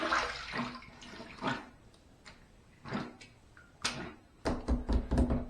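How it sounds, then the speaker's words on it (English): Water splashing at a bathroom sink as a face is rinsed after a wet shave, a few separate splashes and drips early on, then a burst of louder, closer splashing toward the end. "third pass done. Let's rinse."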